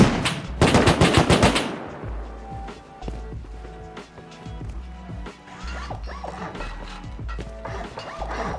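A rapid burst of automatic gunfire in the survival game Rust opens loud and close, then falls away to scattered single shots, thuds and clattering game noises at a lower level.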